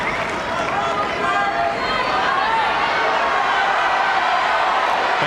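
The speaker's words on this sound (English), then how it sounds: "Crowd's into this. It's good to hear them get a little rowdy." A rowdy Wimbledon tennis crowd at a 1998 match, a continuous, fairly loud roar of voices and chatter filling the stands, with no single voice standing out.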